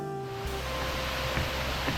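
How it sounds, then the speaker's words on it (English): Water cascades down a waterfall on the Oloolua Nature Trail in Nairobi, Kenya, a dense, constant rushing wash heard close and unbroken, with a faint tonal hum fading out in the first moments. "stare and listen to the cascading waters"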